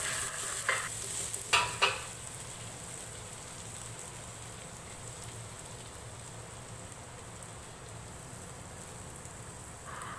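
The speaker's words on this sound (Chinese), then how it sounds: "起锅热油， 先放入姜蓉爆香" Minced ginger crackles in hot oil in a wok, starting with a few loud spattering bursts and a quick scrape, then settling into a faint, even sizzle, with no talk.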